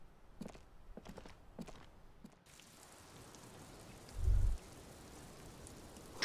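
Rain falls in the video game Disco Elysium as a steady, soft broadband hiss that swells in after a few sharp footstep-like taps, with one low dull thump partway through.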